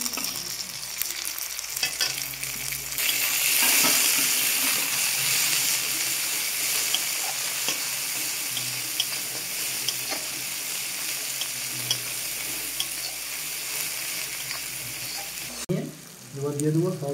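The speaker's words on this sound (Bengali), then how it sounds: "এবার দিয়ে দেবো কুচি রাখা টমেটো" Chopped tomato hitting hot oil in a pan, loud steady sizzle and hiss with stirring scrapes throughout, a brief sharp burst near the end.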